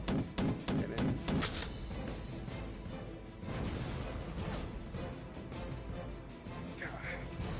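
Aircraft cannons on a WWII fighter in the arcade flight game Sky Gamblers: Storm Raiders fire a rapid burst of sharp repeated shots near the start, then fade into a steady engine-and-battle rumble.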